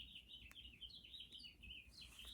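Several birds chirp and tweet steadily outdoors in rapid, overlapping calls, fairly faint and distant, with a low rumble of background noise underneath and no talking.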